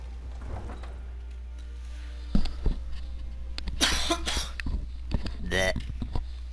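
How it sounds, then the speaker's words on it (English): A person coughs several times in quick bursts midway through, close to the microphone, amid low game background hum and some speech. "Hate coughing."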